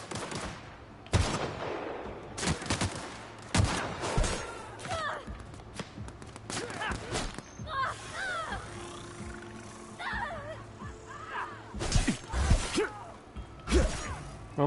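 Gunfire in The Outer Worlds game, sharp bursts of shots and fusillades scattered through the clip with whooshing and mechanical clatter between them, fairly loud and close.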